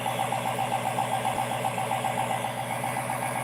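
A Dodge Demon 170 V8 idles steadily close by, a continuous low engine rumble with no revving and no talk over it.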